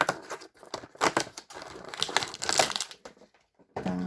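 Close crinkling and crackling of a plastic packet holding a Disney Doorables figure being handled and torn open, in uneven bursts with short pauses between.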